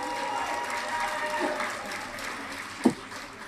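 Scattered audience clapping at a Metropolitan Council meeting, fairly faint and diffuse in a large room, with a couple of sharper claps near the end.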